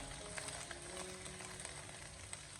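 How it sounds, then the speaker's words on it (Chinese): Potato strips fry slowly in a pan over medium-low heat, giving a soft, continuous sizzle with faint crackles and no talking. "用中小火给它慢慢的煎制一下"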